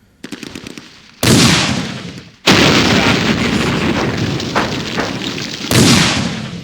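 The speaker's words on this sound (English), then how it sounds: "There's our artillery, so our first shot missed." Artillery firing in the Arab-Israeli war game Campaign Series Middle East: loud booming shots with long rumbling tails, one after another, following a few sharp crackling pops, with no talk.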